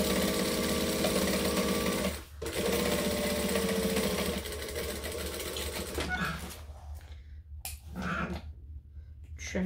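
A sewing machine runs steadily, stitching forward and then back stitching across a tote bag seam; the close, loud motor hum drops briefly near the two-second mark, then gives way to shorter bursts with pauses toward the end.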